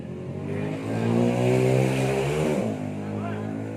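Motorcycle engine revving up and down over a few seconds, a close, rising and falling harmonic whine with people talking in the background.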